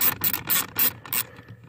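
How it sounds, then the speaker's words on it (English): A hand ratchet turns a blower motor screw on a second-generation Toyota Tacoma, giving five quick clicking bursts in a steady rhythm, close and moderately loud, with no one talking. "We're just going to go ahead and do this other one with the ratchet."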